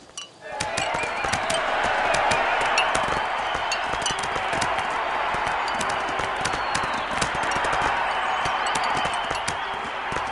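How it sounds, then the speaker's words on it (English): A large crowd roars and cheers at a cricket match, a dense, sustained wall of voices and scattered claps that swells in quickly and holds steady and loud throughout. "They cheered."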